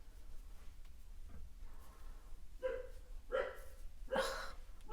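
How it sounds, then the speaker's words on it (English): Dogs barking indoors from the other side of a house, a few muffled, distant barks spaced about a second apart, growing slightly louder toward the end over quiet room noise. "Why do they want to bark when I'm filming?"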